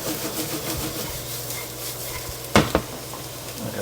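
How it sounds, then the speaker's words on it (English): Zucchini noodles sizzling in a hot non-stick pan, a continuous close crackle with a couple of sharp clatters of tongs or utensils partway through, no talk. "let's go ahead and get those zoodles in the pan. Nice and hot."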